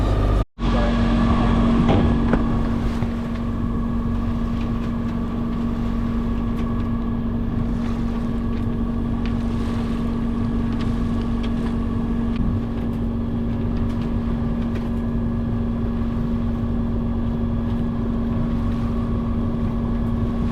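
A sailboat running under its motor against current, wind and waves during a storm passage gives a steady engine drone with a constant low hum, overlaid by buffeting wind noise on the microphone, continuous and close with no talking.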